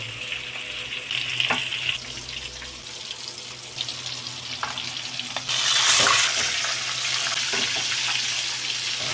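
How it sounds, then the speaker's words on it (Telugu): Chicken pieces fry in hot peanut oil with a dense, continuous sizzle and hiss, close and steady, and it swells briefly louder partway through. "ఇది మళ్ళీ నేను నూనెలో ఫ్రై చేస్తానండి"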